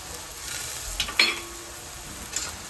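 Ground masala for matar paneer, with peas, fries in oil that has already separated in the pan: a continuous sizzle with a couple of scraping stirs and a brief clink, close and fairly loud, without speech.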